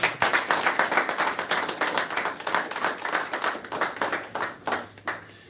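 At a temple service, a congregation claps in a steady rhythmic beat, with sharp, evenly spaced hand claps that are fairly close and clear before tapering off at the end.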